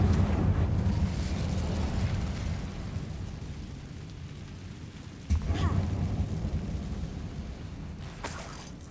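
A roaring fire spell cast in Hogwarts Legacy inside a closed mine, a sustained low rumbling whoosh with a sharp burst partway through, loud and close.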